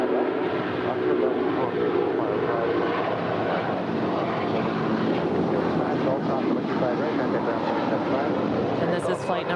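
An Air Canada airliner, flight 790, at LAX gives off a continuous, loud, dense engine rumble and roar that stays level throughout, with no clear voice rising above it.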